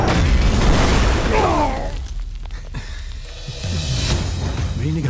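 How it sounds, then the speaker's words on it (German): A grenade blast in a German action movie trailer, a loud, close explosion with a deep boom and shattering debris, followed by a rumbling tail under tense scored music and brief shouted voices. "Granate!"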